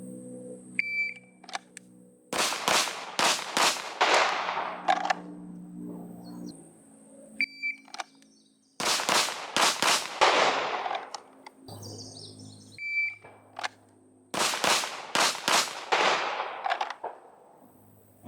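Pistol shots ring out in three quick volleys of about four to five sharp, loud cracks each, fired during a draw and transition drill, with short quiet gaps and faint beeps between strings.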